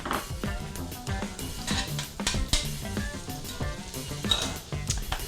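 Tomatoes going into a hot pan for Tuscan shrimp, sizzling loudly with repeated clinks and scrapes of a utensil stirring against the pan, close up and without talk.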